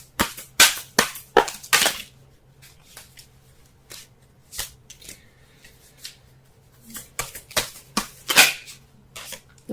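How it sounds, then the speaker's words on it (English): Tarot cards being shuffled in quick riffling bursts, close and crisp, with pauses between rounds; a faint steady hum runs underneath. "Let's go ahead and shuffle so we can get a clearer understanding of the cards here."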